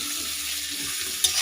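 Chicken soup seasoned with salt is stirred in a pot, a steady simmering hiss with soft scraping, ending in a sharp clink near the end, with no voices.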